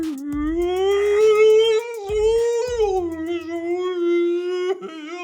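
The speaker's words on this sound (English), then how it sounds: "It's like a whale sound." A whale's long moaning call glides slowly in pitch and holds steady for about five seconds. It is loud and close, with a few low thumps beneath it and no talking.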